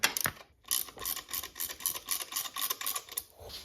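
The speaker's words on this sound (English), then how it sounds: "Haven't got to the torquing yet, just cross pattern, tightening them." Harley-Davidson cylinder bolts are snugged down in a cross pattern with a hand ratchet on a 7/16 socket, giving a steady run of quick, close clicking strokes after a brief pause near the start.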